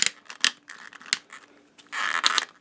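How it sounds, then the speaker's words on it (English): Ball hinge leg joints of a NECA 1/4 scale Michael Keaton Batman action figure being moved, producing close, sharp plastic clicks and ratcheting creaks in quick irregular bursts, ending in a denser run of clicking. "Ball hinge at the legs, and they kind of you can hear them clicking."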